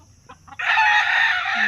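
A chicken gives a loud, sustained cluck or crowing call up close, entering after about half a second of quiet faint clucks and continuing strongly to the end.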